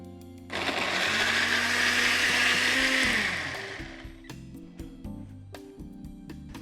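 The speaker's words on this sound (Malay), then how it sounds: "Tambahkan cuka dan kisar sehingga halus." A blender whirs loudly for about three seconds grinding chili, ginger and vinegar, its motor pitch wavering, then stops, followed by light clattering and knocks.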